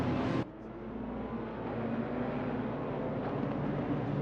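A GT3 racing car engine in Assetto Corsa Competizione hums steadily at a distance, with a louder burst at the very start, then a continuous mid-level drone as tyres and brakes are warmed.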